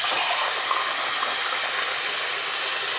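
Tap water runs steadily in a kitchen, a continuous broadband hiss and splash that stays even and fairly loud for the whole stretch with no talking.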